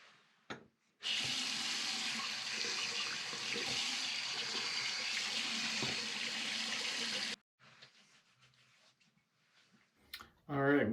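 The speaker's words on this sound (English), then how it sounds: "So I'm going to go ahead and rinse off and then relather." Running tap water in a sink as shaving lather is rinsed off, a loud steady splashing stream for about six seconds, followed by quieter drips and handling sounds.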